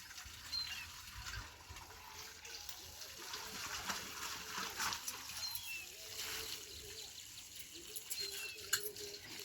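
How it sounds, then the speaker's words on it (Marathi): Tap water runs steadily into a pot at an outdoor tap out in the fields, a continuous hissing splash with faint background sounds. "इथून या नळाला पाणी अवेलेबल असतं. मग याच्यामुळे इथून एखादा हंडा भरून न्यायचा"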